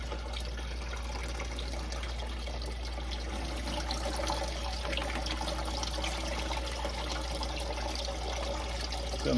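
Water runs continuously over a Miller table washing sand, a steady close rushing and trickling flow with low pump rumble and no talk.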